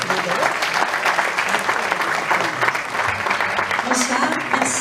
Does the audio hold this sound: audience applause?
yes